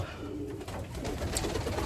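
Racing pigeons coo softly over a low background rumble, with faint rustling and other birds nearby.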